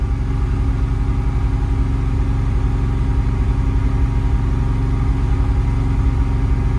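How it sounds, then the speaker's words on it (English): A Kohler standby generator runs at a steady, loud, even drone with a low throbbing hum and no change in pitch. "So the generator is on"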